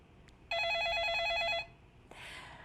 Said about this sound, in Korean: 기다리는 동안 먼저 걸려온 전화부터 받아보겠습니다